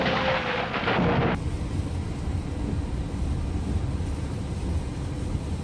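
Thunder from a storm passing over the Chicago skyline, a loud crack at the start that gives way to a long, continuous low rumble with a windy, noisy wash throughout.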